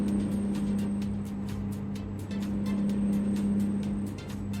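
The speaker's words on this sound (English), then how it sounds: "Very noisy truck, this one." Heavy truck engine in the Euro Truck Simulator 2 game, a loud, steady low drone with a constant whine running through it, holding evenly from start to finish with no talk over it.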